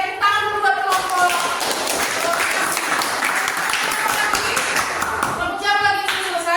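Students clap together for a group in a classroom: a brisk, dense burst of hand clapping that fills the room between stretches of a voice speaking at the start and end.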